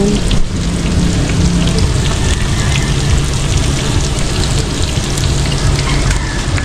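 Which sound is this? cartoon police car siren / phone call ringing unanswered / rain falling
rain falling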